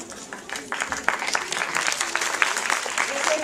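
An audience applauds a performer who broke his leg two days earlier, a steady dense patter of clapping with some voices mixed in, fairly close and even throughout.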